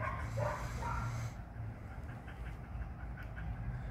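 Wolf-dog mix dogs of Alaskan Malamute, Siberian Husky, German Shepherd and Samoyed descent vocalise with a few short yips and whines early on, then quieter low murmurs over steady background noise.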